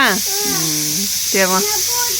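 A steady, high steam hiss from a pressure cooker runs throughout while a voice speaks over it in short, rising and falling phrases.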